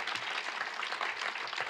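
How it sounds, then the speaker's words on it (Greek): Audience applause at a Junior Achievement Greece youth entrepreneurship event, a fairly quiet, steady patter of many hands clapping at a distance for a few seconds. "Ένα χειροκρότημα για τον Παναγιώτη."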